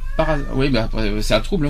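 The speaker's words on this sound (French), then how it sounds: "je suis désolé pour le chat, si vous l'entendez." A cat meows a few times close by while someone talks over it.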